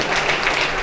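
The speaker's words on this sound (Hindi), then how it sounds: "इनके लिए जोरदार तालियों से हम लोग स्वागत" Audience applause welcoming Goal Institute's managing director, Vipin Kumar, at a formal function in Dhanbad: a dense, steady wash of many hands clapping together, loud and sustained throughout the short burst.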